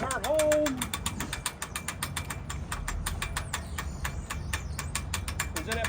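A hand-cranked boat winch ratchets steadily as a boat is pulled in, a rapid run of close, even clicks under some background noise, with a brief voice near the start.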